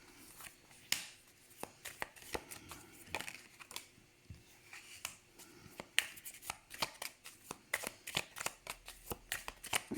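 Tarot cards shuffled by hand, giving a rapid series of crisp riffling snaps and soft papery flutters, close and fairly quiet, with no talking.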